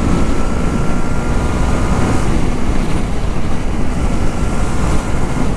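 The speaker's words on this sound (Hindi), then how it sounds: "और एग्जॉस्ट नोट" A Yamaha MT-03 naked 300cc motorcycle gives its exhaust note, a loud, close, steady low rumble that stays dense and even for several seconds without any talking.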